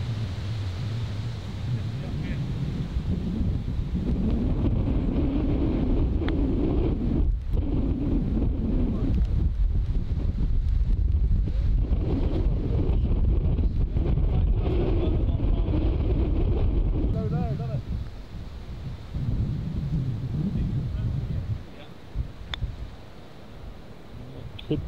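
Wind gusting across an open golf course, a steady loud rumble of wind buffeting the microphone throughout, easing slightly near the end, with people talking over it.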